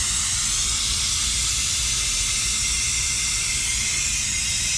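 A Harbor Freight air-operated brake bleeder hisses with a loud, steady, broadband rush of compressed air, unbroken and close for the whole stretch, with no voices.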